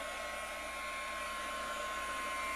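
A heat gun blowing hot air during paper card crafting, a steady, close whirring hiss with a high whine that holds at even loudness throughout.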